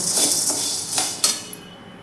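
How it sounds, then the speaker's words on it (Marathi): Sago pearls are dry-roasted in a kadhai, and a spatula scrapes and taps against the pan in a few rhythmic strokes. A sharp clink follows, then the pan goes quiet. "आता आपण हा शाबुदाना छान असा फुलेपर्यंत भाजून घ्यायचा आहे"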